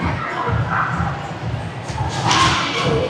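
Bumper cars inside a shopping mall in George Town, Penang, Malaysia knock into each other with repeated dull thumps and bangs over a steady crowd murmur and background chatter.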